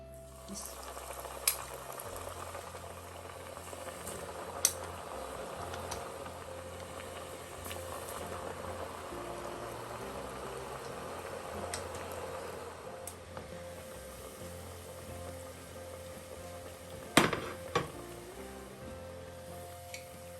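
Churros frying in a pan of hot oil, a steady, moderate crackling sizzle running throughout with a few sharper pops and a brief louder burst near the end, no voices over it.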